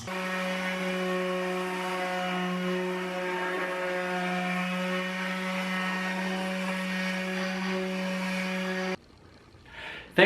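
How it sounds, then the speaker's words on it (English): A jigsaw cuts a scribed wooden piece with a steady, buzzing motor whine held at an even pitch for about nine seconds. It then stops abruptly, and faint handling noise follows. "take it to cut it out with the jigsaw"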